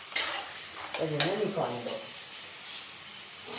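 Ingredients for poha are stirred and roasted in a pan, giving close scraping and soft sizzling with brief clattering strokes. Someone talks over the cooking.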